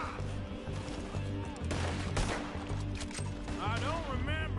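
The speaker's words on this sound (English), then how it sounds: "Told you I could shoot a gun" Gunfire in the video game Red Dead Redemption 2, with a few sharp shots cracking amid a busy game soundtrack while character voices talk over the action.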